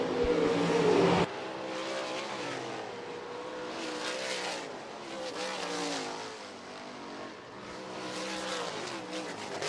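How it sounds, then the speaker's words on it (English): Heat race of 305 sprint cars at Rapid Speedway, a continuous loud roar of several engines howling and surging around the track for the whole stretch, with a brief sharper burst at the start. "Heartland Steel 305 sprint cars, your heat race winner, the 23 of Brandon Bosma."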